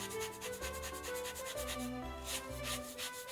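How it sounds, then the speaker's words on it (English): Fresh orange peel is grated over whipped cream atop a chocolate orange drink, giving quick, rhythmic close-up rasping strokes repeated several times. "we're gonna grate some fresh orange over top of that whipped cream"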